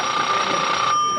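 A telephone rings in a TV talk-show studio with a loud, close, continuous electronic tone that steps down in level partway through.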